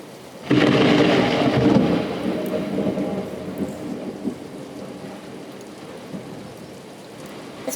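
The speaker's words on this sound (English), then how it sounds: "The storm's heavy, but the wind's not." A heavy thunderstorm with steady rain and little wind: a loud rumble of thunder breaks in early and slowly fades under a constant wash of falling rain.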